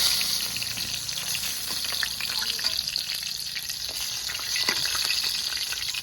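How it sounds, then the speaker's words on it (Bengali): Pangas fish frying in plenty of hot oil, a continuous close sizzle with bubbling and scattered sharp crackles and pops, loud and steady throughout. "মাছ তো ভাজা হয়ে গেছে এবার তুলে নেব"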